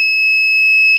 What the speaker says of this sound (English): See, there's the alarm goes off.